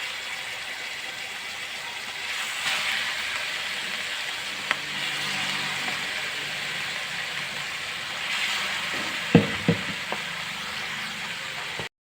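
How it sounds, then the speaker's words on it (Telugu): Marinated fish frying in hot oil in a pan, a steady faint hiss and sizzle throughout with a few small pops and clicks near the end. "తర్వాత ఒక పక్కన చేప ఫ్రై చేస్తున్నానండి"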